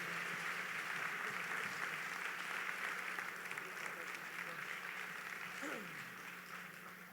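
Faint, steady congregation applause in a church, a soft wash of clapping that fades gradually, with a brief voice near the end.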